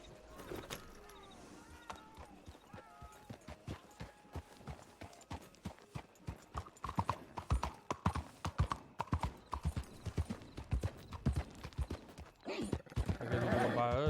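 Horse hooves clip-clop on the ground in Red Dead Redemption 2, a rapid, steady string of close hoof strikes that grows louder partway through, with a voice talking over it.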